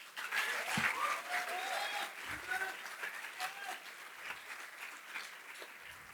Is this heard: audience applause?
yes